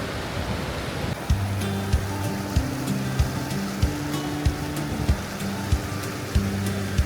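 Water rushes steadily over rocks at a waterfall in Guizhou, China, with a constant broad roar, joined by low sustained tones and soft clicks at regular intervals.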